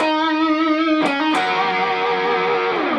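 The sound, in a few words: electric guitar playing a stereotypical blues line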